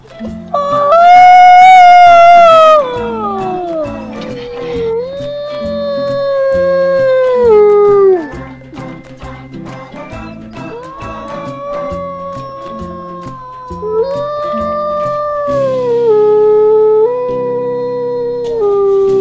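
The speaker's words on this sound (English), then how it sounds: "Can you howl?" Wolves howling in a sanctuary near New York, long sliding wails overlapping into a loud chorus, rising and falling in pitch with brief dips between calls and a steady closer howl near the end.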